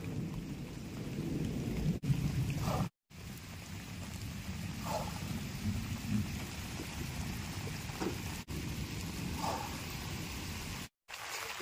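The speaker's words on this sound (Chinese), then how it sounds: "但是现在打雷啊，打雷不安全啊。" Steady rain pours over Taiping Lake during a fishing trip while thunder rumbles low and continuous beneath it, with a few brief dropouts in the recording.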